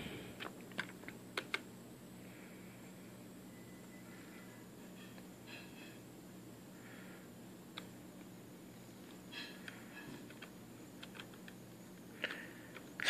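Keys clicking on a new DB Power computer keyboard, sparse quiet taps in irregular short bursts over a faint steady background hum, with no talking.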